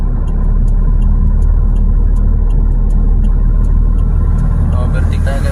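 A car engine climbs an uphill road from San Jose, Nueva Ecija toward Santa Fe, Nueva Vizcaya while overtaking, a loud steady drone under road noise inside the cabin as people talk throughout.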